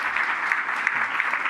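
Applause from the public gallery at a San Bruno city council meeting during public comment, a steady dense wash of clapping lasting the whole short stretch with no talk over it.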